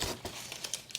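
Paper crinkling and rustling while unboxing a J-Ramp Dose skate ramp, a few soft crackly bursts close by, light and uneven.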